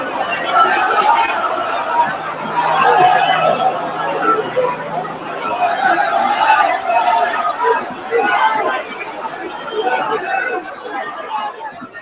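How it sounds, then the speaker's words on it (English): Crowd of football fans gathered before a Southampton vs Portsmouth match, a continuous hubbub of many voices and chatter, moderately loud and steady throughout, with no single distinct shout standing out. "what we're seeing in that clip is crowd trouble just before a Southampton Portsmouth match"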